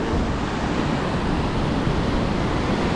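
Surf waves rolling in at Navarre Beach on the Florida Panhandle, a steady, loud broadband wash with constant rumble and wind, close by and with no talk.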